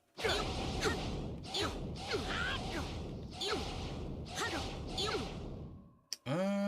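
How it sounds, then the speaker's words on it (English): Punch effects in the Dragon Ball Daima video game come as a series of heavy whooshing impacts, about one per second, loud and close, ending in a sharp hit and brief ringing tone. "Definitely the punch effects."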